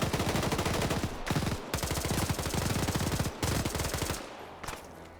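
Rapid automatic gunfire in a video game PvP match, loud sustained bursts of fast repeating shots broken by brief pauses, with a final trailing quieter stretch.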